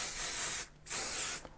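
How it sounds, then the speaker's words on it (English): Repositionable spray glue from an aerosol can, applied to a plastic stencil. Two close, steady hissing bursts are separated by a short pause, with a brief third puff at the end. "bringing back my plastic and my repositionable spray glue"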